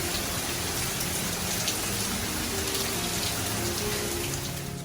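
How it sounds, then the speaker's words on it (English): Heavy rain pours outside in a storm, a dense, even hiss of drops on surfaces that holds steady throughout with no voices. "there's a pretty heavy rainstorm going on outside"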